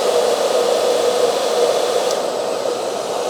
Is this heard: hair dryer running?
yes